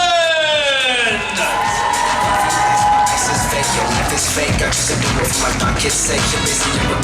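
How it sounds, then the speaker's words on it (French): A crowd cheers and shouts for a contestant at a Kamoplay 2025 cosplay selection, a rising whoop that swells into loud, sustained yelling and excited voices, including children's, lasting throughout. "du bruit pour Archela."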